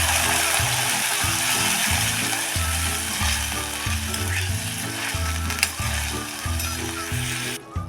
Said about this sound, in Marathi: आता त्यामध्ये ओतूया हे साधारण पाव वाटी पाणी